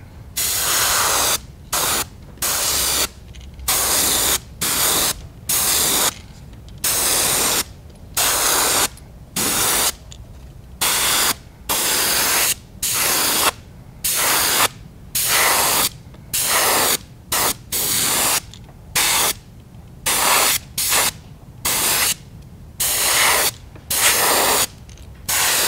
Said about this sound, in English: we're going to give it a coat of opaque white